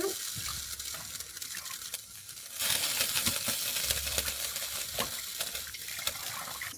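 Spinach being washed under a running kitchen tap: soft handling noises at first, then a steady, close rush of water that continues to the end, with no talk.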